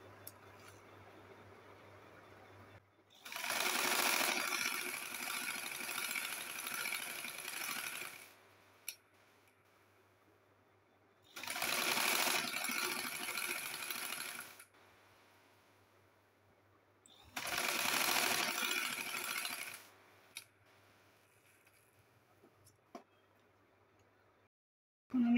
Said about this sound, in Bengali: এভাবে আমি এখন সেলাই করে নেব।